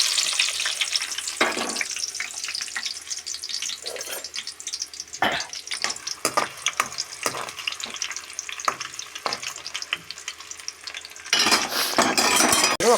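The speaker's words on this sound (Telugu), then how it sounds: "ఫస్ట్ కళాయి పెట్టి నూనె పోసి ఉల్లిపాయలు" Onions frying in oil in a kadai for a chicken dish, a steady bright sizzle throughout with intermittent stirring scrapes and clinks of a utensil against the pan, growing louder near the end.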